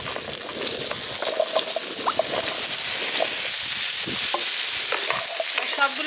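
Eggplant, radish, potato and pumpkin pieces hit a frying pan and sizzle loudly as they are stirred, with scraping and splattering crackles up close, with no voices.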